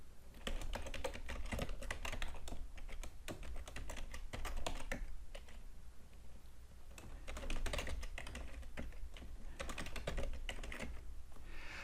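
Rapid typing on a computer keyboard while an Oracle database password change command is entered, with dense irregular keystroke clicks running steadily throughout, close and clear, with brief pauses between bursts.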